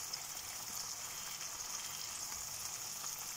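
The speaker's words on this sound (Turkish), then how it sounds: "dilerseniz yumurtaları patlatarak pişmelerini sağlayabilirsiniz" Eggs with peppers fry in a pan, giving a steady, close, even sizzle and crackle throughout with no talking.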